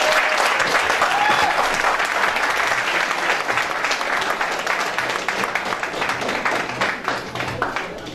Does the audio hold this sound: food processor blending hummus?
no